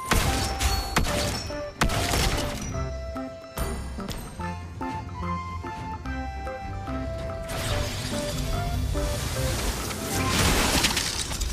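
Lesley's gunshots in the Mobile Legends mobile game, loud bursts of crashing, shattering gunfire and impact effects layered over game music and skill sounds, heavy at the start and again near the end.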